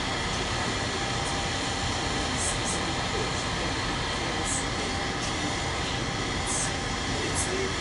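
A hot air rework gun set to about 500 degrees with a wide nozzle blows across an Apple A1286 laptop logic board near the CPU, a continuous loud airy hiss that never changes.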